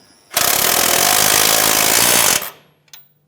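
A power wrench snugs a 17 mm sway bar link bolt on a 2011-2017 Honda Odyssey, one loud, continuous two-second rattling burst, then a faint click afterward.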